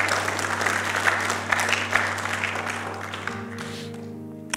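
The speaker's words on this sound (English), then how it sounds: "Let's give our parents a big clap." A church congregation claps for the parents during a service, dense applause filling the room, close and steady, with a low sustained organ or keyboard tone underneath and the clapping thinning toward the end.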